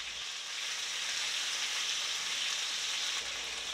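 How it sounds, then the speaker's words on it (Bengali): Chicken pieces being lightly fried in hot oil make a dense, even sizzle, close and steady throughout, with no talking. "শুধুমাত্র উপরে হালকা একটু ভেজে নিচ্ছি"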